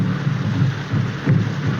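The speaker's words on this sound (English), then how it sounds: "I couldn't sleep. This rain and those drums." Heavy rain falls in a constant hiss with low rumbling swells like distant thunder, and no voices are heard.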